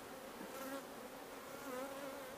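Honey bees cluster on comb being moved from frames into a top-bar hive nuc, giving a faint, steady buzz with wavering tones that swell slightly now and then.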